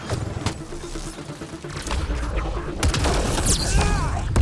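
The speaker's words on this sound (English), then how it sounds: "Grenade!" Gunfire and a grenade blast during a firefight against Ket forces in the video game Mass Effect: Andromeda: sharp gunshot bursts crackle throughout, with heavier booming impacts building toward a loud close.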